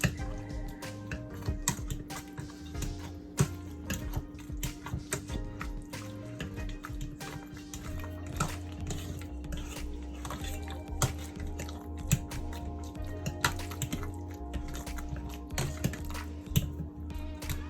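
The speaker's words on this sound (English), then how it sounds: "Let's go ahead and just mash everything away." Potato masher pressing through cooked potatoes, squash and carrots mixed with butter and milk, giving repeated soft squishing thuds and clicks in an irregular rhythm over a steady low kitchen hum, close and moderately loud, with no talking.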